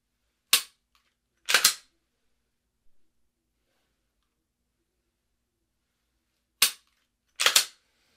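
Two quick pairs of sharp handgun shots crack out across a shooting range at several targets, each burst loud and close, separated by a long quiet pause.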